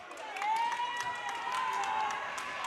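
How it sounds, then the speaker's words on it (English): A single spectator at a girls' varsity high school basketball game claps loudly and repeatedly in a quick steady rhythm, heard over a faint gym crowd with voices and a ringing tone in the background. "Now he's just going to clap really loudly"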